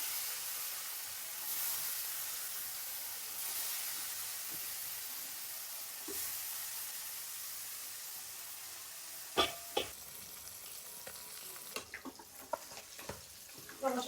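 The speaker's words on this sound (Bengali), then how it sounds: "যে কোনো মাছ ভেজে নেওয়ার আগে আমি কিন্তু তেলটাকে একদম গরম করে তারপর এই যে সামান্য লবণ আগে দিয়ে নিই।" A pinch of salt goes into very hot oil in a wok before fish is fried, making a soft, steady sizzle and hiss, followed later by a few sharp clicks and taps.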